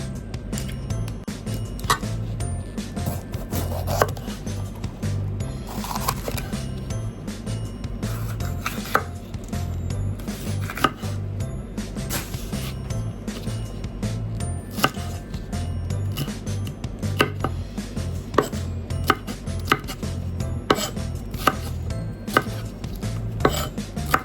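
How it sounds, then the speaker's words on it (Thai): Vegetables chopped with a knife on a cutting board while a chicken stir-fry is prepared: rapid, steady, close chopping taps that repeat without pause for over twenty seconds. "หั่นผักให้เสร็จเนาะ"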